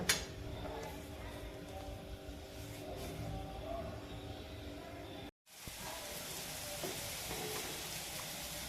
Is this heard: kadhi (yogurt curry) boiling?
yes